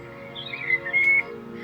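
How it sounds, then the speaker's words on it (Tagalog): Birdsong from a pillow speaker's relaxing sound track, a few bright chirps and whistled notes rising over a steady low hum, close and moderately loud for under two seconds. "Ibon."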